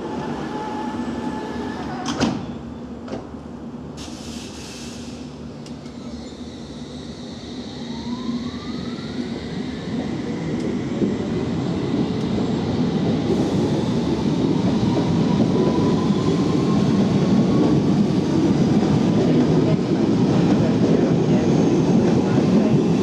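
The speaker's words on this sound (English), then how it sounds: "This is an all-station Metropolitan Line train to Amersham." A London Underground Metropolitan Line train rumbles and builds as it pulls away from the platform at Rickmansworth station, with a door chime early on and a rising whine of motors over steady rail noise.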